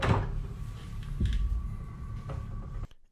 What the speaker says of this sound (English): He jiggles the handle and tries forcing the door, attempting to open it.